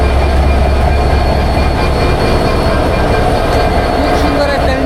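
Betna local commuter train on the Khulna–Benapol broad gauge line, engine number 6301, waiting at a station on a rainy morning; a steady loud rumble of the engine and rail noise runs throughout, with faint voices nearby.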